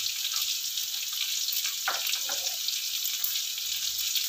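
Onion being stir-fried in a pan while cooking bitter melon with anchovies, a steady bright sizzle with a few soft stirring scrapes partway through, close and fairly loud.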